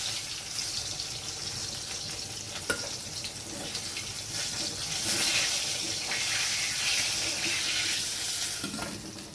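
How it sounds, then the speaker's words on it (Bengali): Rohu fish pieces frying in hot oil in a wok, a continuous close crackling sizzle with a faint tap or clink partway through and a slight swell in intensity midway, no voices. "বাকি মাছগুলো আমি ভেজে নিচ্ছি"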